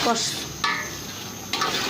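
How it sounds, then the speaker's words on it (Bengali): Chicken and potatoes sautéing with spices in a pan: a brief, close burst of frying sizzle broken by a couple of stirring scrapes and clinks of a utensil on the pan. "মাংসটা আলুটা কষাতে হবে।"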